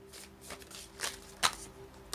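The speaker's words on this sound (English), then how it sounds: "Now I'm going to pull 10 cards from this deck." A deck of oracle cards is shuffled by hand in soft, quick bursts, five or six brushing riffles at irregular intervals, close and quiet.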